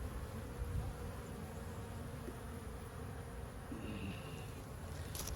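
Agitated honey bees at an opened hive, a faint continuous buzzing swarm that stays steady throughout with no voices.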